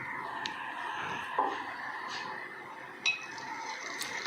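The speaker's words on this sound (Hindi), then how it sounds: "इस बात का ध्यान रहे कि चमचा साथ साथ ही चलाते जाएं और बिल्कुल कढ़ाई के साथ इसको मत लगने दें" A spoon stirs besan halwa in a kadhai with a few soft metallic scrapes and clinks against the pan, faint and sparse over a quiet kitchen background.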